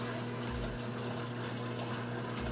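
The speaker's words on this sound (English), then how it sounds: "we're just gonna rinse this off, make sure we don't contaminate the other tank" Water runs steadily from a tap as a probe is rinsed in a reef tank lab, a constant close hiss and splash under a low pump hum with no talking.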